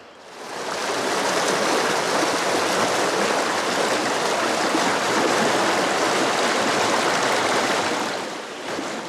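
A woodland stream near a waterfall on the Chinnabee Silent Trail rushes steadily and loudly, a broad unbroken wash of flowing water close by. It fades in at the start and eases slightly at the end.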